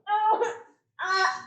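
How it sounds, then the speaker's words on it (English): A child gives two short, close burps with a voiced, throaty quality, separated by a brief pause. "Nice burp"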